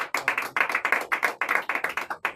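A church congregation at a French-language assembly meeting claps together in a steady, brisk rhythm, a dense run of hand claps close and lively with no talk over it.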